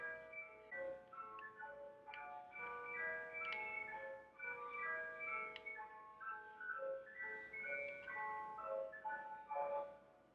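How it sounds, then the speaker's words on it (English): An ice cream truck's chiming tune plays continuously, a tinkly melody of bright repeated notes at moderate volume with no voices over it. "Why is her ice cream truck just loud as fuck?"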